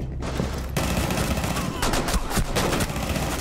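Rapid gunfire rattles through a Rainbow Six Siege firefight, loud bursts and overlapping shots in close succession, busy and continuous with a few sharper cracks standing out.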